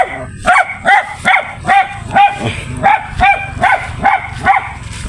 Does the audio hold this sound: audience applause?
no